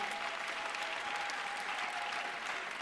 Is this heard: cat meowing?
no